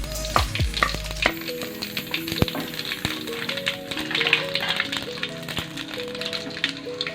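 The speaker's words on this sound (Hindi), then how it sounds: "अब हम इसके अंदर ये खड़े मसाले डाल देंगे।" Whole spices crackle and sizzle in hot oil in a karahi for chicken karahi, a steady busy frying hiss with scattered pops and a few clinks from stirring.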